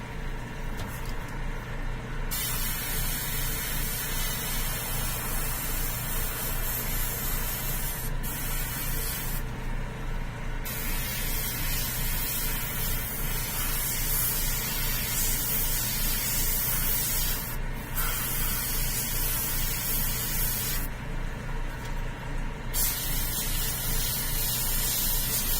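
An airbrush hisses steadily while spraying darker paint onto a Batman figure, a close, continuous airy spray broken by a few short pauses.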